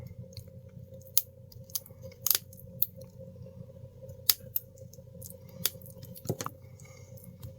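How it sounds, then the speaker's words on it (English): Small scissors trim the rough edges of a UV resin piece, giving sharp, crisp snips spread irregularly across the clip, close by, over faint background hum. "Whatever I can't get, I'm just going to take my little scissors here"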